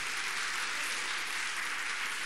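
Studio audience applause on the 1989 French Jeopardy game show, a dense, even wash of many hands clapping at once, steady and bright throughout with no voices.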